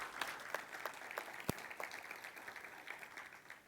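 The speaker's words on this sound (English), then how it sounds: "Big applause for this talk." A conference audience claps after a talk on Kubernetes DaemonSets, producing a soft, continuous patter of many hands that sounds somewhat distant and holds steady throughout.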